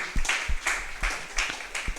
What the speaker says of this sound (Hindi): ताली बजाए प्रभु यीशु मसीह के लिए, हालेलुया।